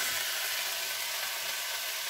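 Vegetables, peppers and tomatoes sizzle steadily in a pan for a light jambalaya, an even hissing crackle close by without any talking.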